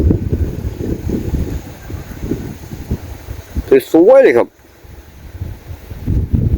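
Gentle evening breeze outdoors near a Thai riverside home, a soft steady rush of wind buffeting the microphone throughout, with someone talking briefly partway through before the wind returns.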